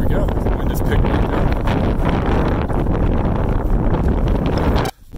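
Strong wind buffets the microphone on the summit ridge of Mt Sherman, a loud continuous roar with gusting texture that drops off abruptly near the end.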